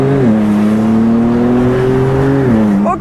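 McLaren 720S widebody supercar with a 9 Design kit revving hard, a loud, close engine howl holding a steady pitch, dipping briefly at a gear change and then climbing sharply at the end.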